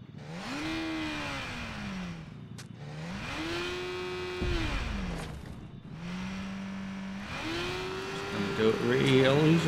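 A motorbike engine in the Fortnite video game revs in loud, repeated swells, its pitch climbing and holding before dropping away, across several throttle bursts.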